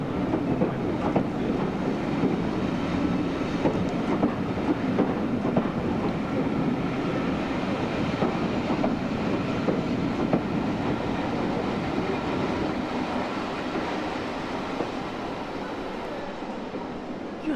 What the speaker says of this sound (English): the engine driver finally brings the train to a stop with the last coach exactly in line with the end